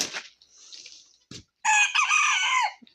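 Roosters crow loudly nearby, one long rising crow following a few shorter calls and clucks, with brief quiet gaps between them.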